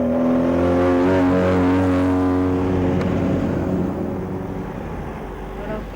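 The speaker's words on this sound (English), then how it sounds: "the roars were coming from the many revving engines that were raring to go" Rally cars rev their engines at the Agra Taj Car Rally, a loud, sustained roar of several motors with rising and falling pitch, fading slightly toward the end.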